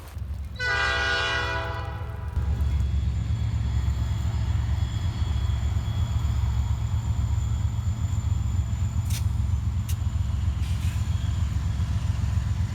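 A freight train in a rail yard, lights on and about to pull out, sounds a loud multi-tone horn blast, then settles into a steady low idling rumble with faint metallic clanks.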